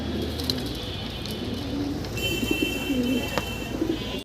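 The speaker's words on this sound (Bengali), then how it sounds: "মানে দর্শক আরও এক জোড়া কবুতর খুবই চমৎকার আমরা দেখতে পারতেছি" Fancy pigeons at a pigeon sale coo softly in short, low, repeated phrases, fairly faint against a quiet background hum.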